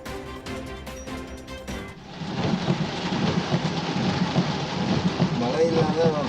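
Heavy monsoon rain falls in a steady, dense hiss after an opening stretch of different sound, loud and continuous with scattered thicker patter.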